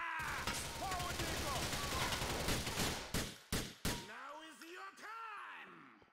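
Sharp pistol shots ring out in a short burst of three loud, close cracks midway, set against busy background noise, with a voice speaking afterward.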